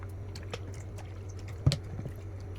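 Room-temperature drinking water is poured into a bowl of milk for homemade yogurt, giving a soft splash and trickle with one sharper slosh near the middle, close and quiet over a low steady hum.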